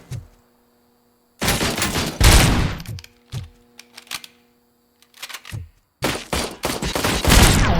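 Gunfire in the Robocop video game, several loud close bursts of rapid automatic fire lasting a second or two each, broken by short gaps with a few single shots and clicks in between.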